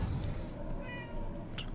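A cat meows once in the video game Murdered: Soul Suspect, a short, clear, fairly close call rising over a low, steady ambient background.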